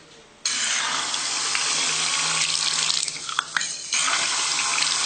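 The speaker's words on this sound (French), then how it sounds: "Voilà, c'est un robinet" An electronic faucet turns on abruptly and runs in a loud, steady stream, with a few brief splashes and fluctuations near the end.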